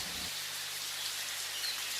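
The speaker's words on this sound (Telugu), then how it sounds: "వాన పడుతూనే ఉంటుంది." Steady rain hisses evenly throughout, a dense wash of falling drops with no other sounds standing out.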